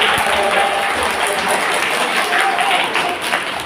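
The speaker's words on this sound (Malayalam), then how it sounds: "ഒരു നല്ല കൈയടി എടുത്തുകൊണ്ട്" Loud, dense applause from a crowd, continuous clapping filling the whole stretch with a few voices mixed in.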